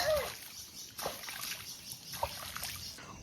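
Water splashes in a few bursts after heavy rain as a child plays in a puddle outdoors. It sounds faint and somewhat distant, with trickling between the splashes.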